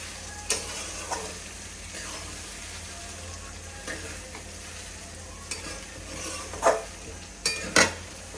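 A spoon stirs and mixes cooked rice with spices in a sizzling pan, with soft scraping and a few sharp clinks of utensil against metal, growing louder toward the end.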